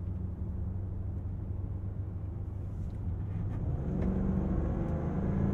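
Steady engine drone from a 2022 Land Rover Defender 90 V8 driven in dynamic mode, a loud continuous rumble that swells as the throttle opens near the end.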